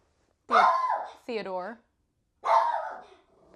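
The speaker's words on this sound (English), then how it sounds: "My dog loves barking at squirrels." A dog barks three times, close and loud, in short separate bursts with brief silent gaps between them and nothing else in the background.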